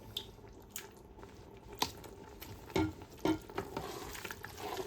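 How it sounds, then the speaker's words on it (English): A spoon stirring stock into chicken and vegetable soup in a pot, soft irregular scrapes and liquid squishes with a few sharper clinks, quiet and close with no talking. "Stirring it in thoroughly, and you keep going until the soup is the desired consistency that you like"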